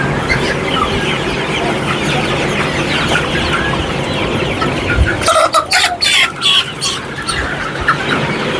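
A flock of Sonali hybrid chickens about 42 days old clucks and chatters continuously on a poultry farm, with a dense layered murmur. Several louder, sharper calls and squawks break through near the end.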